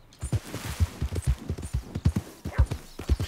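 Horse hooves in Red Dead Redemption 2 clip-clop in a quick, uneven rhythm, close and fairly loud, with no talking.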